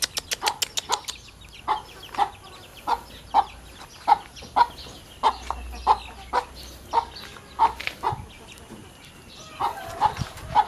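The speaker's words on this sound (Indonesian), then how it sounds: "Ini ayamnya, dia akan makan." Backyard chickens kept in a simple coop made of scrap wood cluck steadily while feeding, a run of short, repeated calls close by with a few sharper squawks at the start and no talking.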